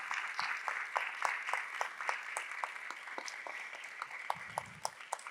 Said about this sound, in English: So a big round of applause for everybody